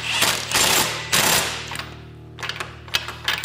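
Impact wrench hammering in loud rapid bursts while tightening a ball joint on a Can-Am Maverick Sport front A-arm, two long close bursts followed by shorter stuttering hits.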